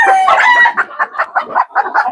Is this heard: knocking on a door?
no